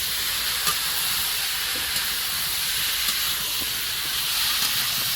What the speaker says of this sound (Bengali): এটা একটু ভালো করে এখন ভেজে নিতে হবে পেঁপেটা ভালো করে ভেজে নিয়েছি